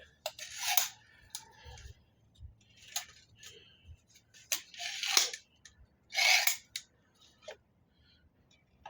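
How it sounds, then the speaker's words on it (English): Adjustable hair-cutting shears handled at close range, giving a string of sharp metallic snips and clicks in irregular bursts with quiet rubbing and handling noise between them. "Oh, adjustable shears."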